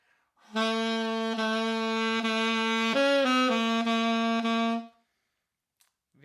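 A saxophone holds a long sustained note with a shaky tone from weak facial muscles that wavers unsteadily, dipping briefly in pitch midway before steadying, then stops, leaving silence.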